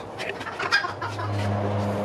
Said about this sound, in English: That doesn't look like a chicken there. That's a green jungle fowl.